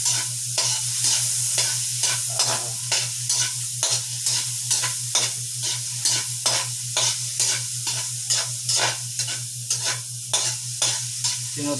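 Pork soup with odong noodles cooks in a pot, a spoon stirring in steady rhythmic scraping strokes over a constant low hum and a soft bubbling sizzle.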